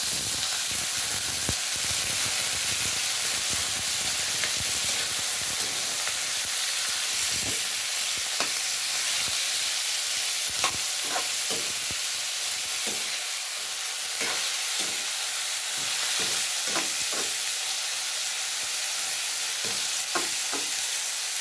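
Chicken wings frying in a pot for tinola, a constant loud hissing sizzle with scattered pops and crackles throughout, close up and with no talking.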